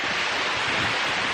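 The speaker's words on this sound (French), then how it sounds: "Une petite rivière, bon qui est pas naturelle mais elle est sympa" A small artificial stream beside a mountain trail on Mount Ikoma, Japan, flows with a steady, close hiss of running water, even and unbroken, with no one speaking.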